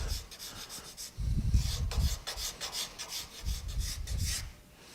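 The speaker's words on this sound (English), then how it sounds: "And now I get the card scraper." A card scraper rasps across sculpted wood in repeated strokes, close and fairly loud, with short pauses between the bursts of scraping.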